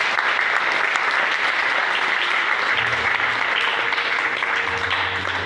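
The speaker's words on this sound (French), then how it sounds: "Est-ce qu'on va encore applaudir pour Jésus?" A church congregation claps for Jesus during a sermon on the power of the Holy Spirit: sustained, loud applause from many hands, continuous and even throughout, with a faint low murmur underneath.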